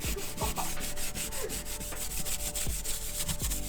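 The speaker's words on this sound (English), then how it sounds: "I'm just scuffing this up so the paint will stick to it better because it's just bare aluminum and it had a coating on it" Bare aluminum N15 Design hood vent for a BMW E46 being scuffed by hand to remove its coating, a steady, close, continuous abrasive rubbing with repeated back-and-forth strokes and no talking.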